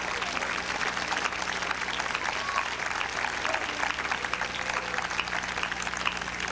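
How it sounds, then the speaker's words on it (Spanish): A church congregation applauds continuously for several seconds, a dense steady clatter of many hands clapping in a large room. "Dele un aplauso al Señor con todo su corazón."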